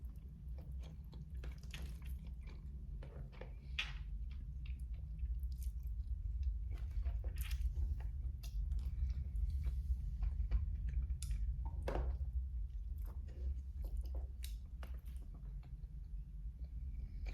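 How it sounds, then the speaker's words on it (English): A person chews food close to the microphone in quick, wet, squishy bites, steady and soft, with no talking. "as I'm chewing so fast"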